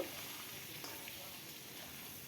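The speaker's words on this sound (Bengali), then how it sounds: "সব আলু দিয়ে একটু নুন দিলাম আর হলুদ দিলাম দিয়ে এটাকে ভালো করে ভেজে নেব" Potatoes fry in mustard oil with salt and turmeric, a faint, steady sizzle with a couple of soft pops and light stirring throughout.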